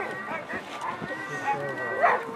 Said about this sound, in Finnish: se on mielenkiintoinen kuunnella noita koiria ulomassa ja haukkumassa, kun halut reitille ovat jo kovat